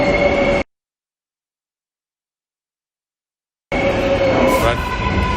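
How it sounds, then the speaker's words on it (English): A train rolls through a station with loud rail rumble and a faint wheel squeal; the sound cuts to total silence for about three seconds, then the same close rolling noise returns, with no clear talking. "I just missed another train"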